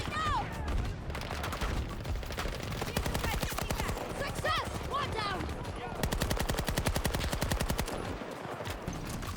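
Rapid automatic gunfire in a video game, long dense bursts of machine-gun fire running almost continuously, loud and close, with voices talking underneath.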